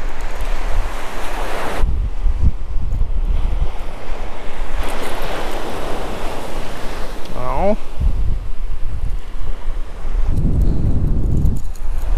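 Choppy ocean surf and gusty wind on an Outer Banks beach during surf fishing, broadband wash and rumble filling the scene with steady loud wind buffeting the microphone and a brief voice-like sound partway through.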